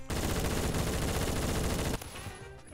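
Rapid, sustained automatic gunfire in a Roblox shooting game fills most of the clip as a dense, loud barrage, then cuts off abruptly to quieter game ambience near the end.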